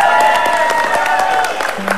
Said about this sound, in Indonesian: Tepuk tangan untuk Bapak Surya Paloh KW.